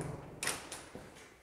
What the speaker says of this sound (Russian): Дверь открываешь